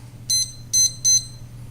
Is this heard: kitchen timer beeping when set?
yes